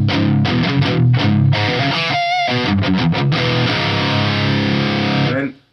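A loud, distorted electric guitar runs through a modded JCM800-style preamp pedal without an SD1 boost, playing choppy palm-muted chugs and sustained chords before a quick fade-out, with no talking.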